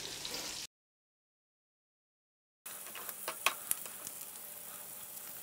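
Salmon fillets searing skin side down in a pan give a bright, steady sizzle with crackling pops. It cuts out for about two seconds of silence, then resumes close and consistent.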